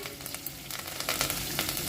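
Short, loud hiss and crackle of ginger-chili paste hitting hot oil after mustard seeds, a dense sizzle with sharp pops and no talking.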